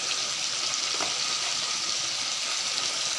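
Spices frying in oil for a raw jackfruit curry with onion, garlic paste, chili paste, cumin and turmeric, a steady close sizzle with a faint stir near one second, alone with no talk.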